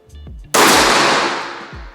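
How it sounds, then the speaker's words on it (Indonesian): A single sharp, loud gunshot-like crack from an unsilenced airsoft sniper rifle bursts out and rings off with a short indoor decay, preceded by faint low thumps. "Gak pakai peredam, kenceng suaranya."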